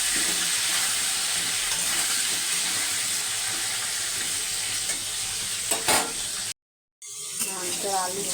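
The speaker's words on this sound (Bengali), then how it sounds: "নুন হলুদ দিয়ে আলুটা ভেজে নেবো।" Potatoes frying in hot oil in a wok with salt and turmeric, a steady dense sizzle running close and loud throughout, broken by a brief silent cut near the end before the crackle resumes.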